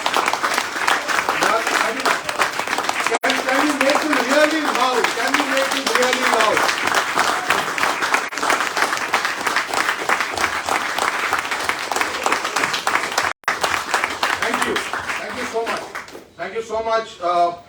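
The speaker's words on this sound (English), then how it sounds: "Can you please stand up and take an applause from all of us?" An audience at a Mumbai launch event honouring women entrepreneurs breaks into sustained, loud applause that carries on steadily, while a host's voice speaks over the clapping and near the end the cheering tapers.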